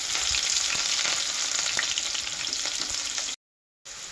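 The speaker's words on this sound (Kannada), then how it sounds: "ಇವಾಗ ಹಸಿಮೆಣಸಿನಕಾಯಿ ಹಾಕ್ಕೊಳ್ತಿದ್ದೀನಿ." Green chillies fry in a hot pan with a steady loud sizzle and occasional stirring scrapes, cut briefly by a short silent gap near the end.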